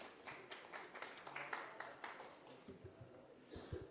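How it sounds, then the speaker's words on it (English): A conference audience at the Thai Pavilion applauds a speaker walking on stage, faint scattered clapping in a large room, steady for a few seconds. "let us together welcome on stage Mr. Faisal Parish with a round of applause"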